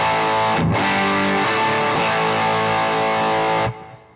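An electric guitar played through an Angry Driver distortion pedal gives a loud, saturated chord that rings for about three seconds, then cuts off abruptly.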